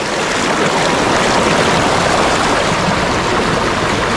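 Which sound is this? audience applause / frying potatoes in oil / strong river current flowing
strong river current flowing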